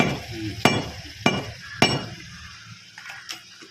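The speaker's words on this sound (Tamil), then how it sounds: "அதே டக்குன்னு வெட்டுற கத்தியாக இருக்கணும். இது வெட்டு கத்தி." A sharp cutting knife strikes down while fish is chopped, giving three loud crisp chops at roughly half-second intervals, followed by softer light knocks and clinks.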